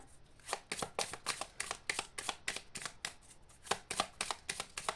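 Oracle cards being shuffled by hand, a steady run of crisp riffling bursts with brief pauses between, close and clear with no talk over it.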